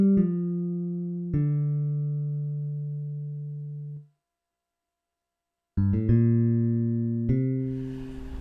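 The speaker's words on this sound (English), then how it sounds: "And now I'll add the bass sound. This is once again the Linux sampler." Bass sound from the Linux sampler on a Zynthian DIY Raspberry Pi Linux synthesizer: a few long, smooth low notes, then a short gap and a run of bass notes, clear and alone.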